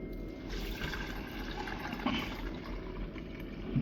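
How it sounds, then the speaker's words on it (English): Water chucked down a dry toilet during a leak check on a plumbing job trickles and splashes steadily for a few seconds, moderately loud and close, with no talk over it. "Right, I'll chuck some water down."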